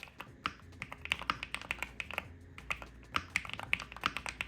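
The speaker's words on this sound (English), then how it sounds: "My only criticism of this keyboard is that it was a bit loud." Rapid, clacky typing on a mechanical gaming keyboard, sharp uneven keystrokes in quick bursts, close and crisp with no voices.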